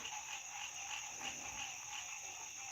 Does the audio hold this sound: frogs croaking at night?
yes